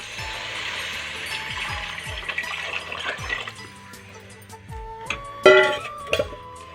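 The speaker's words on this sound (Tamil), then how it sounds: "இந்த தண்ணியும் இதோட சேர்த்திக்கலாம்." Tomato-tamarind water poured into a frying pan, a brief splashing pour with liquid trickling, then light clatter and sharp taps near the end, faint throughout.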